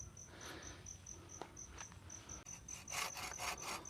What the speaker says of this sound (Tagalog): Putulan po natin yung sobra ng kawayan.